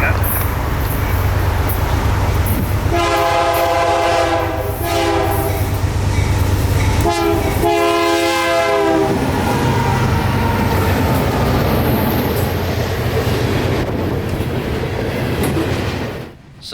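Rebuilt SD70 Max locomotive rumbling past loud and close, sounding its horn in two long chord blasts over steady rail and wheel noise.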